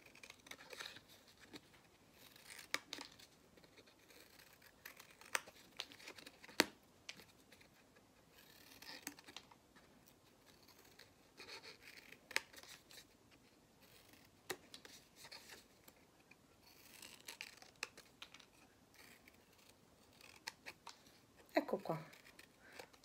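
Scissors snip paper petals for an art lesson, rounding off the cuts in a run of small, light, irregular clicks and crisp snips heard close under a quiet voice explaining in Italian.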